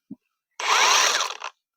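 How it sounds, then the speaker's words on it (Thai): A short battery-powered saw burst, a high whining buzz for about a second after a brief tap, then it stops; no talking. "กรของเราวันนี้ก็จะเป็น เลื่อยนะคะเลื่อยแบตเตอรี่นะคะ"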